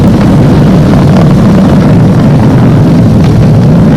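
Falcon rocket's Merlin 1D engines during launch, throttled down, heard as a continuous loud, dense low rumble with broadband roar and no breaks.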